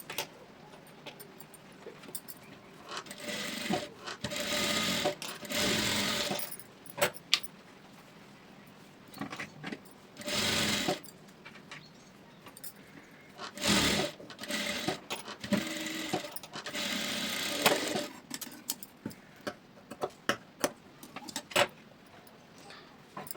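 A sewing machine stitches the lining of a blouse in repeated bursts of rapid mechanical whirring, each run stopping and starting again as the fabric is repositioned. No one speaks.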